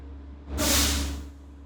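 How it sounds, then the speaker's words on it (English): Air brake governor cutoff on a bus at about 120 to 140 psi, a sudden loud hiss of released air bursting in mid-clip over a steady engine idle hum, then tapering off. "we're going to listen for the sound of the governor cutoff."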